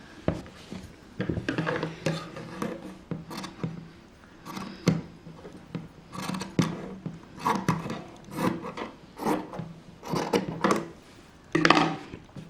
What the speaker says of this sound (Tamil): எக்ஸ்ட்ரா இருக்கிற அந்த கிளாத்தை கட் பண்ணிடுறோம்